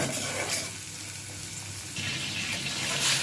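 Chopped onion and garlic hit hot oil in a pan, giving a steady, close sizzle with a brief burst of louder crackle partway through.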